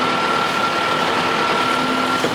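A new tractor's diesel engine runs steadily and loudly after being shifted into second gear, a constant low rumble with a faint tonal whine throughout, no voices.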